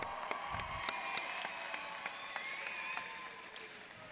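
A graduation crowd claps for families in attendance, a moderate, steady wash of applause with scattered sharper claps, somewhat distant and even.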